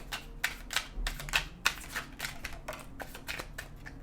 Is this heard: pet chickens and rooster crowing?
no